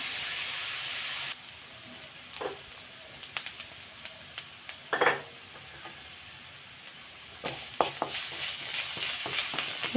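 Onion, ginger, garlic and green chili fry in a pan for a potato curry, giving a steady hiss and sizzle. Scattered scrapes and taps of stirring cut through, with no voices.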